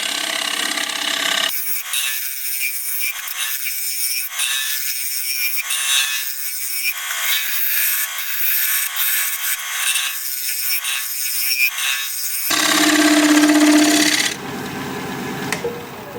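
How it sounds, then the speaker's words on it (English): A wooden bowl spins on a lathe while a half-inch gouge cuts it, making a steady, close, rough scraping hiss with rhythmic pulses. Near the end the cutting gives way to a brief, louder tonal whine. "Yeah, that gouge makes a much better cut"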